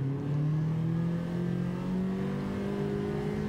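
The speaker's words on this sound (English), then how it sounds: "I don't remember my little Mini making quite so much noise" A Mini Cooper S with a swapped engine in Gran Turismo revs hard, its steady, loud engine note rising gradually in pitch as it accelerates, heard alone without talk.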